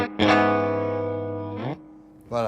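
An electric guitar plays through a Kelt Signature Axel Bauer amp with 15% spring reverb, sounding two sustained, harmonically rich notes separated by a short gap, each note decaying into a soft reverb tail.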